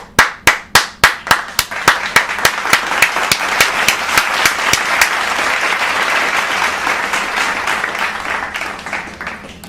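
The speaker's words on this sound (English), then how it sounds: "Clap it up for Mike" A small group claps for Mike, starting with a few slow, loud, evenly spaced claps that quickly speed up and blend into dense, sustained clapping close by.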